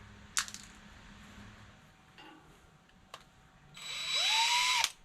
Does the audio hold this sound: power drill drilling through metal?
yes